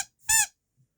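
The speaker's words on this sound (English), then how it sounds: "I won this squeaky octopus" A squeaky toy octopus gives one short, bright squeak, close and clear, with silence around it.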